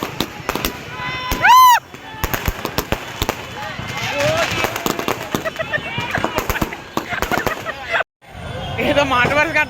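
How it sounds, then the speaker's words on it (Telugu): Firecrackers burst inside a movie theatre during a screening of the Pawan Kalyan film They Call Him OG: rapid sharp cracks and pops in dense bursts, a rising whistle early on, over a loud crowd hubbub. "క్రాకర్స్ అన్ని వైరీ తగిలి పాప మా మీద పడుతున్నాయి"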